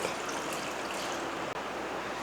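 Water pours steadily into a pot of half a kilo of boneless mutton with turmeric, a continuous splashing, trickling rush that lasts throughout with no talk.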